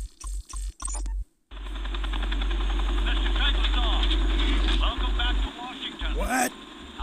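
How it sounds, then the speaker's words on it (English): Helicopter rotor and engine drone in the video game Republique, a loud, steady low rumble that cuts in after a brief quiet start and persists with voices heard over it. "I can't hear you over this helicopter"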